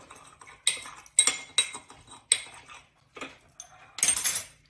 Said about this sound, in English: And I'm going to stir this up a little.